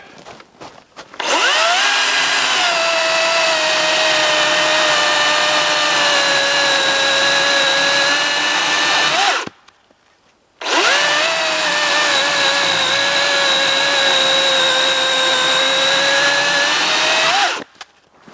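A 60 volt cordless chainsaw with a 16-inch bar cuts through wood in two long, loud, steady bursts of high-pitched motor whine separated by a short pause, with no talking.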